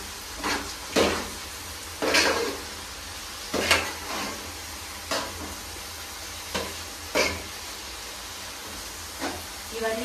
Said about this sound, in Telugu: కొత్తిమీర అలానే పుదీనా అలానే ఎర్రగడ్డలు మంచిగా వేగాలి